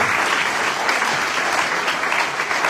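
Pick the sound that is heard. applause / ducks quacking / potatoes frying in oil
applause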